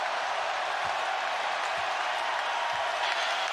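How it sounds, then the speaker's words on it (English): Basketball arena crowd up on its feet during an NBA game with LeBron, a steady loud roar of cheering filling the space throughout, with a faint announcer-like voice under it. "Crowd on its feet."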